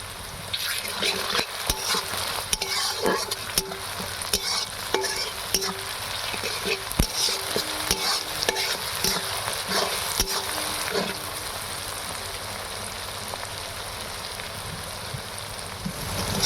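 Tomato and onion fry in a pan, softening after salt goes in, with a busy continuous sizzle full of small crackles and stirring clicks that settles to a calmer hiss toward the end.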